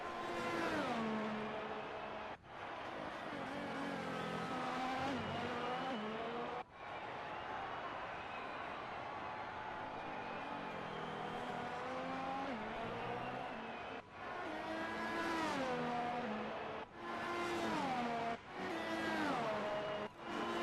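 A Formula One car in the video game F1 2018 at Baku, its engine screaming at full power down the straight, long rising high-revving notes broken by sharp gear shifts, loud and close.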